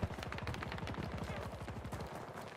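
Rapid automatic gunfire in the shooter game Battlefield 2042 rattles off in a steady, fast stream of sharp shots for the whole stretch, loud and continuous, with no talking over it.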